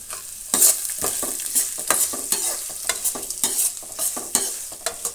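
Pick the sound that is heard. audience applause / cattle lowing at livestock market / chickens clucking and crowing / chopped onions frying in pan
chopped onions frying in pan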